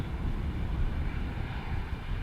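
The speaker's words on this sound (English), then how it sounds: "Keeping up the speed, vacating the runway quickly," An airliner rolls off the runway at Amsterdam Schiphol airport with a steady, loud engine roar and rushing wind noise, continuous with no pauses.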